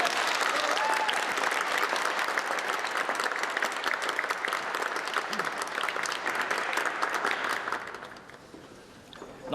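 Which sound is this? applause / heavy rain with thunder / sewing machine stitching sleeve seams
applause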